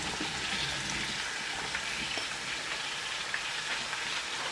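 Paneer and tomatoes fry in a karahi over a high flame, giving a dense, steady sizzle and crackle that runs continuously at close range with no talk.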